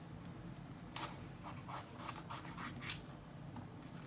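A kitchen knife slices through green chilies on a cutting board, giving a handful of soft, brief crisp cuts and rubbing scrapes over low background noise.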